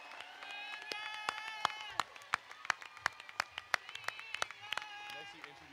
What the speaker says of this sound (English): let's have a big round of applause for everyone